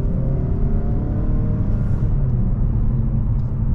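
A 2021 Mazda3 Premium AWD hatchback accelerating up an empty on-ramp, a steady muffled engine drone and road rumble heard from inside the cabin, fairly quiet and continuous.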